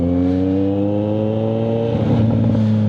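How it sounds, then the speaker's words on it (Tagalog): A loud Kawasaki Z900 SE big bike engine drones steadily close by, its tone rising slightly and shifting near the end, with no talk over it. "Nakakainis sa motor ni Tito Melvin, napakaingay niya mga dito."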